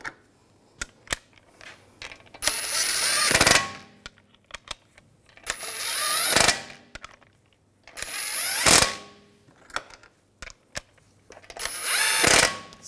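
A power tool snugs down the front wheel lug bolts on a 2007-2013 BMW 328i in four short whirring bursts, each ending in a sharp rattle, with small clicks and clanks between them.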